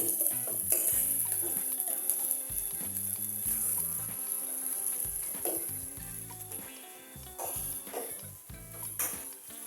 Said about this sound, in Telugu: ఉల్లిపాయలని బాగా కొంచెం రెడ్గా వచ్చే వరకు వేయించుకోవాలండి.